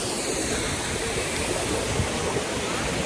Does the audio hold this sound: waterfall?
yes